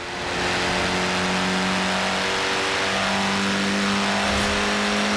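A classic Mini Cooper S engine with twin carburetors revs up in Forza Horizon 4, a loud sustained buzzing drone climbing in pitch and holding high, alone with no talk.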